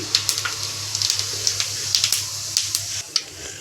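Mustard seeds and cumin sizzle in hot oil over a medium flame, a steady hiss broken by sharp, frequent crackles and pops, close and with no talking.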